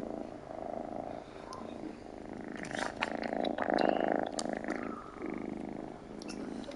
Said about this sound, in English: Yo, that cat is purring like a motherfucker.